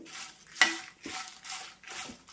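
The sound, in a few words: stirring roasting dried chillies and tamarind in pan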